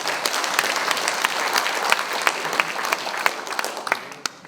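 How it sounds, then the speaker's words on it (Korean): An audience applauds, a dense patter of many hands clapping at a steady level before thinning out at the very end. "큰 박수 한번 보내주시면 감사하겠습니다."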